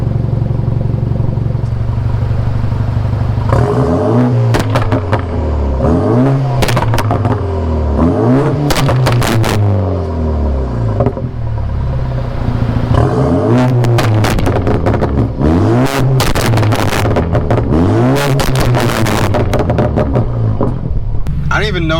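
A BMW 428i tuned with Bootmod3 revs repeatedly, its exhaust rising and falling in loud, close throttle blips with crackles and pops between them, about eight rev cycles in a row.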